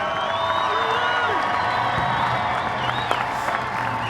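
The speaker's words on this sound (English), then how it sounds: "Ladies and gentlemen, big round of applause for Stuart Holden!" A crowd at a Houston Dynamo charity soccer event applauds and cheers for Stuart Holden, a steady wash of clapping with whoops and shouts, moderately loud and continuous.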